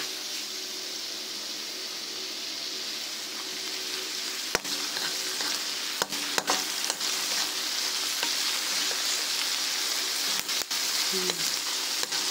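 Tomatoes sautéing in a hot pan give a steady, close sizzle with a few sharp clicks and taps of a utensil scattered through it, and no talking.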